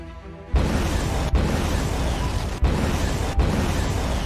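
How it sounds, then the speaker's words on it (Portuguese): Explosions in a scene from the film Twisted Pair: a loud, dense roar bursts in after a short quiet start and rumbles on continuously, broken by a few sharp cuts. "O que são essas explosões?"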